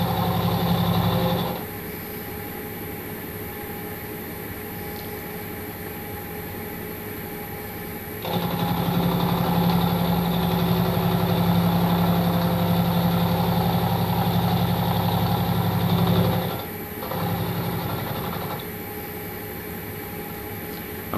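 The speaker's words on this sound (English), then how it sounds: "So I'm doing conventional milling" A milling machine conventional-milling a scrap-metal main body for a hit and miss engine, its steady motor drone rising into a louder cutting passage, then dropping back briefly before resuming.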